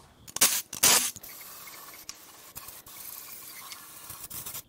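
Spray cleaner hisses into the open bottom end of a Nissan VQ35HR engine from a 350Z with the windage tray removed, two short loud bursts followed by softer, intermittent spraying and dripping close by.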